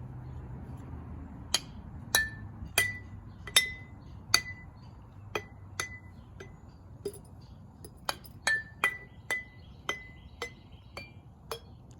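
A series of bright glass clinks, struck steadily one after another and then faster, each jar ringing at a slightly different pitch, with no talking.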